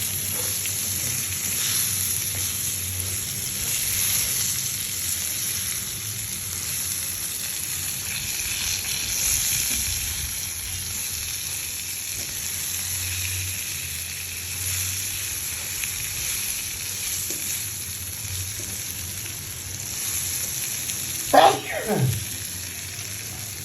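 Pointed gourd frying in mustard oil in a pan, giving a steady, moderately loud sizzle that holds throughout. Near the end come a brief stir and a soft clink.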